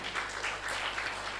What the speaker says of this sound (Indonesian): Berikan tepuk tangan buat firman Tuhan ini.